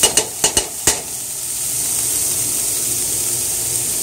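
Vegetables stir-frying in a pan while cooking cabbage and corned beef, opening with a few quick clanks of a utensil against the pan, then a loud, steady sizzle and hiss that carries on alone.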